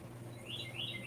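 Birds chirp and tweet outdoors in a brief run of high, wavering calls, heard over a steady low hum from a running pool pump nearby.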